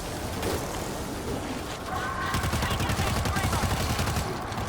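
Rapid bursts of automatic gunfire fill a zombie shooter game, dense and continuous with overlapping shots, a steady loud barrage under the noise.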